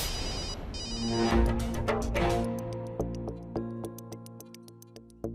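A telephone rings with an incoming call while a musical score plays. Steady ticking pulses sound over the fading music, with no talking.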